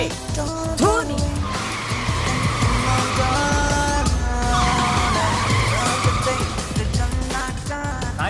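A car driven recklessly skids hard, its tires squealing in long, loud, wavering screeches over the engine's roar. The skidding continues almost without a break.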